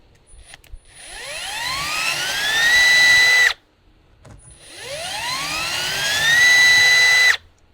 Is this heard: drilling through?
yes